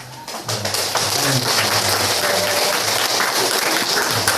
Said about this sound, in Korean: 우리 박수와 또 마음의 격려를 담아서